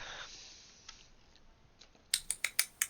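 Sharp clicking of a large bug's pincers, five crisp evenly spaced clicks in a quick run, close and fairly loud after near silence.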